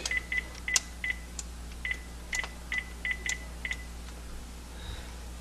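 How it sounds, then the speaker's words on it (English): A phone dials out with a run of about a dozen short touch-tone beeps at an uneven pace, each tone clear over a steady low hum, ending in a brief pause. "I'm gonna call him up on my phone"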